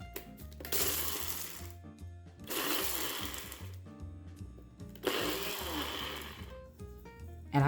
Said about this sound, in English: let's give it a blend